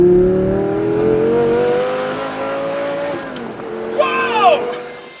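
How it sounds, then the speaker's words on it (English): A 2008 Lamborghini Gallardo Spider accelerates hard, its engine note climbing steadily through the gears with a brief dip at a shift, then rising again near the end, loud and close with a voice exclaiming over it. "This is my 2008 Lamborghini Gallardo Spider"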